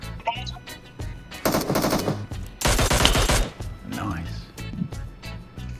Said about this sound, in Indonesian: Gue nembak mininya sekenceng itu ya, guys.